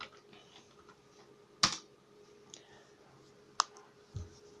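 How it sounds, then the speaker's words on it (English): A command is typed on a computer keyboard in a few sparse, fairly quiet clicks, two of them sharper key strikes, over a low background hum. "Now we're going to type in clean,"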